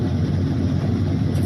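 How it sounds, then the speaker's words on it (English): Steady low rumbling hum of a car's air conditioner running inside a closed cabin, constant and moderately loud with no talking. "Our windows are up, the air conditioner's on."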